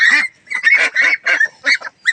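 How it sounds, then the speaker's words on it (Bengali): Pekin Star 13 ducks honk loudly and close by at a farm in Uzirpur, Barishal, about seven nasal calls in quick succession with short gaps between them and no talking. "এটা হলো বরিশাল উজিরপুরে পিকিং স্টার 30 হাঁস।"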